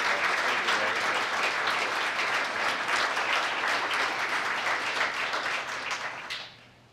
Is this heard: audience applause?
yes